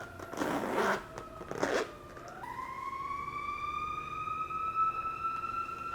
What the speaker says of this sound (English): I'm gonna unzip this.